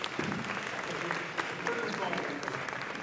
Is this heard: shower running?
no